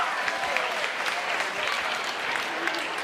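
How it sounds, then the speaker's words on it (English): Crowd applause at a SteelFist 97 fight event for the fighter Aiden, sustained and fairly loud clapping in a large venue that stays steady throughout, with some faint voices mixed in. "Everybody, let me get a big round of applause for Aiden"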